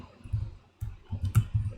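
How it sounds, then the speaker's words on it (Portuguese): Arrow keys on a computer keyboard are tapped several times in quick, uneven succession, giving soft close clicks with brief gaps between them. "com o teclado, com as setas do teclado, vou empurrar ele aqui para cima"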